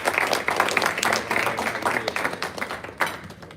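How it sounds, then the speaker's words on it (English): An audience applauds a speaker being introduced at a Hispanic consumer insight forum, dense steady clapping from a nearby crowd that holds for several seconds before thinning toward the end. "So please join me in a round of applause for the Honorable Ileana Ross."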